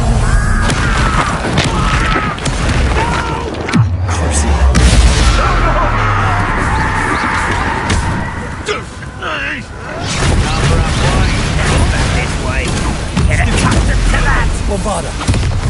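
Bombarda blasting spells exploding during a Hogwarts Legacy duel, a loud, dense stretch of booming blasts and rushing, windy roars with a deep impact partway through, mixed with combat shouts and voices.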